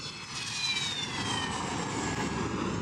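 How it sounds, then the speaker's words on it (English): A 1960s-era Syrian MiG-23 jet at an airbase, its engine producing a loud, steady roar with a high whining tone, continuous and close throughout. "another Syrian aircraft, the MiG-23, which dates back to the 1960s. This particular jet"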